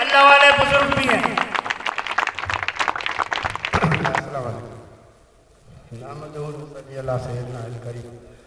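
An audience claps at a community association's anniversary gathering, a few seconds of loud, dense applause heard over someone speaking into a microphone, then fading as his speech continues alone.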